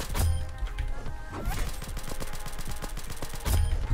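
Rapid pistol fire in the Roblox shooter Aimblox, a long run of sharp, evenly spaced cracks, with heavier impacts near the start and end, loud and close.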